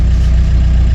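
A Volkswagen B3 Passat's engine runs at a steady low idle just after starting, a loud, even rumble heard close up for under a second.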